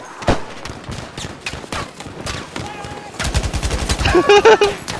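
Rapid bursts of automatic gunfire ring out in Battlefield V, loud and close, with fast rhythmic volleys that intensify toward the end, and voices occasionally heard beneath the shooting.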